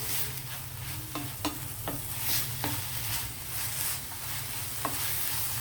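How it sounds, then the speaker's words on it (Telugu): Pumpkin halva fries in a pan while being stirred, with a steady close sizzle and a handful of distinct scraping strokes of the spoon at irregular intervals, and no talking. "ఇలా కలుపుతూనే దగ్గరికి వేయించాలన్నమాట."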